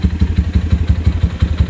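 A Lifan KPR200 motorcycle engine idling at about 1,400 RPM on a hot day, its steady rapid thumping pulse loud and close with no talk over it.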